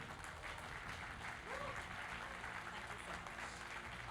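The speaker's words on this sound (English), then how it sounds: "please, once again, a round of applause for Team Odyssey" Audience applause at a film press conference, a sustained, even wash of many hands clapping at moderate distance, with faint voices underneath.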